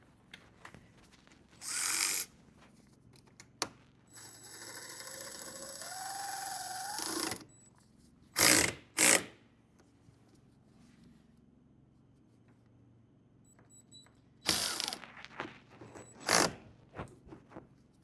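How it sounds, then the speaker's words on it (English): Battery terminals on a Jeep Cherokee XJ being snugged up with a ratchet: short bursts of ratcheting clicks separated by quiet pauses, close up, with a longer whirring stretch in the middle and no speech. "now we're going to go ahead and snug up our battery terminals"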